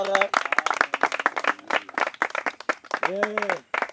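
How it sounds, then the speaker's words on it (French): A congregation at a water baptism service clapping and cheering, dense rapid applause with shouted voices and vocal cries layered over it throughout. "Acclamez très très fort."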